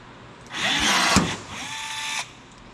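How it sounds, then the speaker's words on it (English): A rivet squeezer sets a rivet during aircraft tail assembly. A single loud mechanical whir lasts under two seconds, with a sharp pop partway through, then cuts off. "You squeeze it until you hear that pop."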